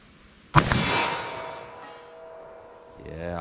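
A .44 Magnum soft point round strikes a steel target plate with a single sharp metallic clang, followed by a long ringing decay; a voice briefly starts at the end.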